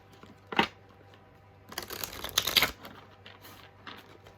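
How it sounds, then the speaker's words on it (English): A quick riffle of tarot cards near the start, then a longer burst of shuffling with crisp papery slaps, close and fairly quiet. "I feel like I should shuffle."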